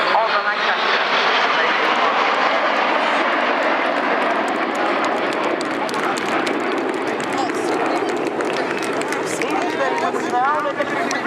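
A Lancaster bomber flies past at an airshow, a loud, steady drone of piston engines that fills the whole clip. A crowd and a commentator are heard underneath.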